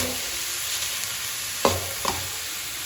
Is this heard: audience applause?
no